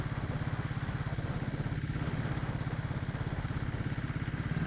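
A restored 1997 Royal Enfield diesel motorcycle engine runs with a steady, rapid, evenly pulsing thump, close and loud, its low chugging beat continuing without a break and with no talking over it.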